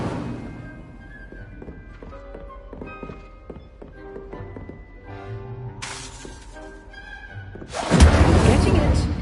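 Incendio fire spell cast in Hogwarts Legacy, a burst of roaring flame rising loudly near the end after a stretch of soft knocks, taps and ambient game sounds.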